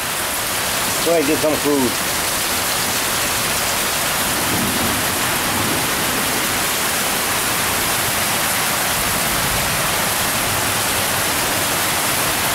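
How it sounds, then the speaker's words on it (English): Steady heavy rain falls outdoors beside a ditch, a dense continuous wash of patter throughout, with someone briefly talking near the start. "This is the second time it's rained today."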